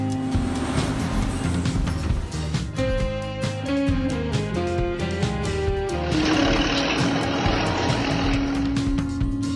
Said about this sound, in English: This construction vehicle has a large drum that mixes concrete.